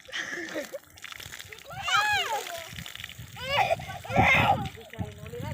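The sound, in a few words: water being poured over someone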